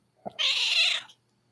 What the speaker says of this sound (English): Just sitting here petting the cat.